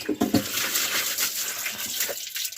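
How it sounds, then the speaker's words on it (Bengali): Leftover water mixed with poultry vaccine poured out of a bottle, a loud splashing gush with gurgling bursts early on, then a steadier stream that tapers off near the end. "এবং বাকি পানিগুলো কিন্তু ফেলে দেব"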